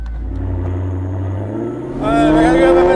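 A loud car engine revs hard inside a tunnel, a low rumble rising in pitch and swelling sharply around the two-second mark into a roaring, echoing acceleration.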